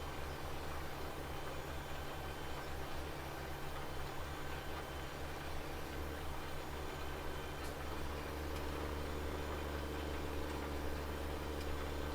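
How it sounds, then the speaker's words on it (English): Steady, low drone of a Steyr tractor engine pulling a seeder in Farming Simulator 17, constant and fairly quiet throughout with no voices. "Steyr tractor does pretty good with the seeder actually. Seems not too bad for power."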